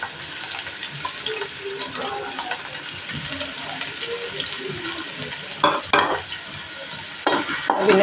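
Onions and whole spices frying in cooking oil for Sindhi biryani, a steady close sizzle with stirring and scraping, plus louder clatters near the end.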